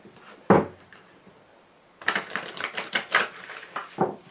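Tarot cards are cut and shuffled on a table, with one sharp snap followed after a pause by a run of quick, close clicking and flicking card sounds.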